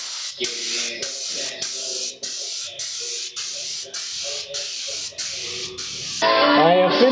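A spray gun laying top coats of paint on a Honda Transalp rally fairing, a series of short loud hissing bursts in a regular rhythm, followed by a longer hiss mixed with other noise.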